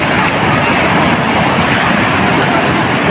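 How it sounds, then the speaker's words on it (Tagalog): Large ocean waves crash and roar in a continuous, loud surf wash close by, steady with no clear pauses, wind buffeting mixed into the churning water. "Lalaki ng alon mga kamarch."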